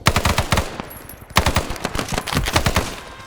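Rapid automatic gunfire in the Vietnam-era shooter SOG, two close, loud bursts of fast shots separated by a brief pause, with a headshot landing in the exchange.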